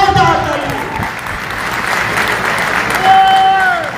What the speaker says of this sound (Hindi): मिस्टर यशवीर जी के लिए जोरदार ताली